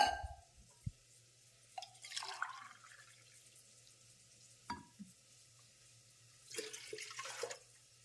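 Water is poured into a vessel of rice for soaking in a home kitchen. There are a few short, faint splashing bursts separated by quiet gaps, and no speech.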